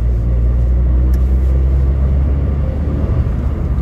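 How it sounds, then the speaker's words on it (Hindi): A modified Volkswagen Polo with a rear diffuser, past 1 lakh kilometres, accelerates hard, producing a loud, continuous engine and road roar close by that holds steady throughout. "गाड़ी की जो पिकअप है, अगेन थोड़ा भगा के देख लेते हैं"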